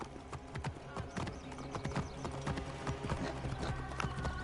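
A horse clip-clops at a steady trot through the video game Assassin's Creed Origins, with loud, rhythmic hoofbeats continuing throughout over a bed of game ambience.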